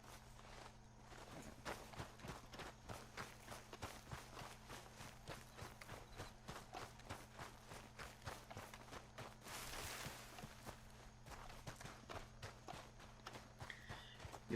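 Horse hooves clip-clopping in the Red Dead Redemption 2 video game, a steady, even rhythm of regular hoofbeats throughout at a quiet level over a constant low hum, with no talking.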